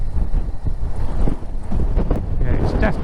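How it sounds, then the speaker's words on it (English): Steady gusting wind at the bay in West Bay, buffeting the microphone with a constant low rumble, and a voice speaks briefly over it. "Yeah, it's definitely windy here."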